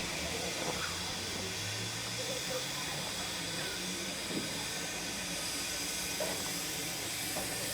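Steam tank locomotive Stevo, a museum 0-6-0 shuttle tank engine, hauls the Valley Heights mixed train on a country branch line, giving a steady hiss of steam over a low rumbling drone of the train, continuous and moderately loud throughout.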